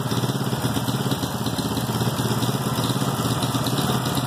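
A Honda-engined 248cc motorcycle, bored from 70mm to 74mm, idles steadily up close, a continuous even chugging putter with a slight rhythmic pulse.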